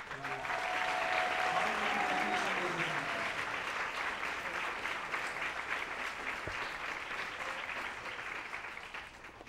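A school audience at a World Music Day show breaks into loud, sustained applause, with a brief tonal sound early on, the clapping slowly fading over several seconds.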